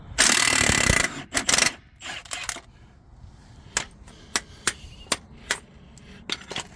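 A 30mm nut coming off the track rod end of a John Deere 6005R tractor: a loud burst of harsh noise opens, then a run of sharp, evenly spaced mechanical clicks like a ratchet working.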